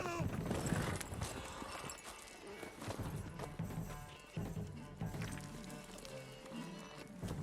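A horse in The Witcher 3 gallops with rhythmic clip-clopping hooves and gives a neigh, heard fairly quietly amid game sounds and effects, the hoofbeats repeating through the whole stretch.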